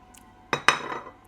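Mini muffins get arranged on a small plate, producing two sharp clinks of dish and utensil close by, the second ringing briefly, amid near silence.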